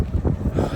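Strong wind gusts blow straight into the microphone in a park at night, a loud, low rumbling buffeting that comes in uneven pulses.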